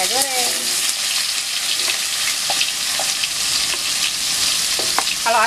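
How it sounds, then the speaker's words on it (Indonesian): Salted fish frying in a pan in a home kitchen, a loud continuous sizzle and spatter with occasional stirring scrapes and clinks close by. "kita goreng."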